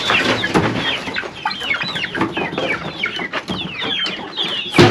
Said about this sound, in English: These are Chicken.